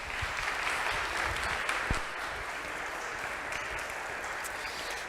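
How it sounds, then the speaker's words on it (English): An audience applauds for author David Zahl, a steady, dense burst of clapping that holds at full strength for about five seconds with no voices over it. "Let's give him a round of applause."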